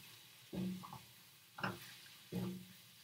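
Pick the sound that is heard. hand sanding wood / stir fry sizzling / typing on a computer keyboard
stir fry sizzling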